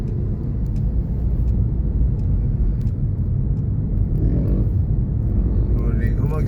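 Road traffic in Liloan hums along as a continuous low rumble of passing vehicles, with an engine briefly swelling louder near the end and some faint sounds over the steady drone.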